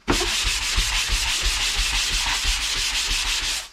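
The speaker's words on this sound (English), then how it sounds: "So be generous with your mud, because you can go back and sand it." Dried drywall joint compound is sanded in steady back-and-forth strokes, a loud, close, rhythmic abrasive rasp with no talking.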